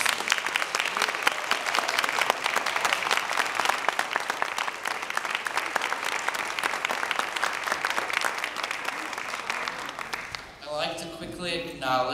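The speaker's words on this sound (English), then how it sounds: "I'd like to give the kids a quick another round of applause for their very hard work this semester." An audience at a school concert applauds the students with sustained, dense clapping for about ten seconds before it fades and a speaker starts talking.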